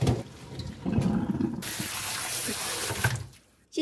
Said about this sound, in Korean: 그러면 찬물에 헹궈주겠습니다.